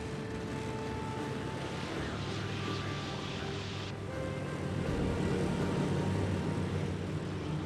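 A World War II propeller fighter is flown to mimic a Focke-Wulf 190 against a Spitfire. Its engine gives a continuous, fairly faint drone with a steady humming tone that shifts slightly midway, and no speech is heard.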